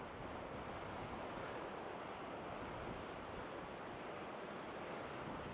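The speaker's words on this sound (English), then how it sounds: "Glacial water running underneath." Glacial meltwater rushes beneath the first footbridge in the Hooker Valley near Mount Cook, New Zealand, a steady, loud, unbroken roar of flowing water with no voices.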